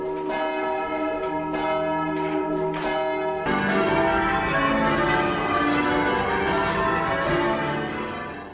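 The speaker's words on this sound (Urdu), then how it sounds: "عیسائیت میں بھی آذان کے طور پر اس طرح سے گھنٹیاں بجائی جاتی ہیں جس کے ذریعے سے لوگوں کو چرچ آنے کی دعوت دی" Church bells calling people to worship, ringing in overlapping, sustained peals that grow fuller and denser partway through, loud and resonant with no voices.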